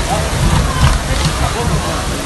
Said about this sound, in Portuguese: tá muito alta essa água, velho. Agora a água vem pra cá, ó.